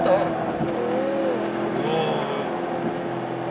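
Ford Expedition SUV in sport mode, its engine droning and rising in pitch under acceleration as a steady cabin hum, with someone talking over it throughout.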